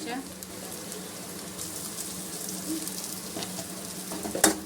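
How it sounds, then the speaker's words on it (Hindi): Chillies sizzle as they fry in hot oil for black masoor dal tadka, a soft, steady crackle with a few sharper pops near the end. "मिर्चा भी फ्राई कर लेंगे इसे"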